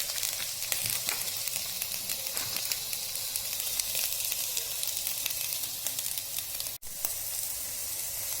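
Turmeric powder and salt fry in a pan for mint rice with a continuous soft sizzle and faint crackle, plus one sharp click near the end.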